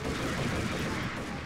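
Gunfire in Max Payne at the Commando Factory, a dense continuous burst of loud broadband shots filling the short moment.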